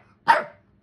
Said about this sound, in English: you tell them to bark at you, Leo.